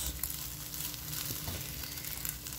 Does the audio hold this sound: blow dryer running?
no